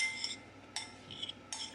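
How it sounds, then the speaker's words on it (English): King oyster mushroom pieces are mixed in a marinade with a utensil in a bowl, producing three short, sharp clinking scrapes spaced roughly evenly, close and fairly quiet with no talk. "mix all together so they all can absorb the liquid equally"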